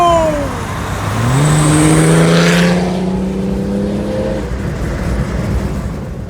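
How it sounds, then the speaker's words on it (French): A BMW 320d E36 with a new turbo, wastegate and manifold, heard through open windows as the engine rises and holds a steady drone, with constant tyre and road roar throughout. "J'ouvre les fenêtres pour que vous entendiez le bruit du moteur et des pneus."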